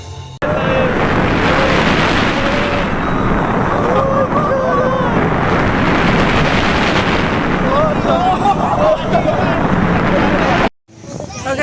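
Front-row ride on the Mako roller coaster at SeaWorld Orlando, a loud continuous roar of wind buffeting the microphone with rumbling track noise and faint rider screams, cutting out abruptly near the end.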